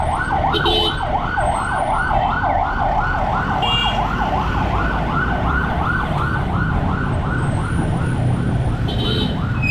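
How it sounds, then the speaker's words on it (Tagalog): An ambulance siren wails in a steady, rapidly oscillating yelp for the whole stretch, loud and close, over a constant rumble of road traffic, with a few brief higher chirps near the start and end. "May ambulansya."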